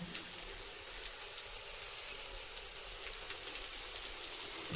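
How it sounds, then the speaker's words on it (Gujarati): Methi gota fritters deep-frying in hot oil in a kadai, a soft, steady bubbling sizzle dotted with small crackles and pops, fairly faint and continuous with no voices. "તેલ ગરમ થઈ ગયું હવે ગોટા તળવાનું ચાલુ કરી દીધું મમ્મીએ"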